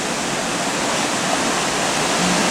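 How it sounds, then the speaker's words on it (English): Broad, steady rush of a force 5 following wind at sea, heard from the 11th deck of a cruise ship high above the water, a loud continuous roar with no voices. "And today, about a force 5 following wind."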